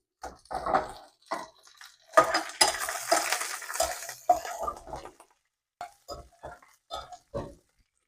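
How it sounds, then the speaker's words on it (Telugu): Urad dal, green chillies and tempering spices sizzle in hot oil with a burst of hissing in the middle, surrounded by scattered clatter of a spoon against the pan. "అన్నం వేడెక్కి ఉండడం వల్ల ఇవి బాగా తొందరగానే వేగుతున్నాయి"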